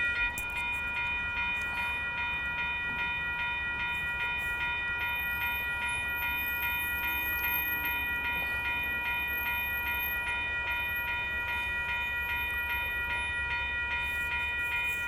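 Amtrak Capitol Corridor train #529 at the 98th Ave railroad crossing in Oakland, CA, a steady loud rumble of passing rail cars under the sustained tones of crossing bells or horn, continuous throughout with no talk.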